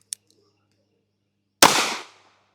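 A suppressed .22 WMR rimfire gunshot, fired after a misfire: one sharp, loud crack with a brief decaying tail, preceded by a faint tiny click near the start, otherwise quiet.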